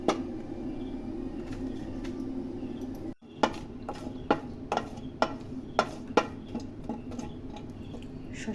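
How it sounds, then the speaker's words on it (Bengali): Spoon stirring white seeds in a hot cooking pan, a series of sharp light taps and scrapes against the metal, irregularly spaced and fairly close over a quiet background hiss. "একটু নেড়ে দিচ্ছি।"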